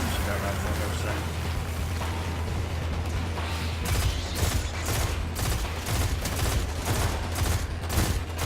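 Rapid automatic rifle fire from a Scar rifle in a Destiny 2 heroic strike, a steady run of loud, closely spaced shots over a constant low game rumble and effects, with a voice talking now and then.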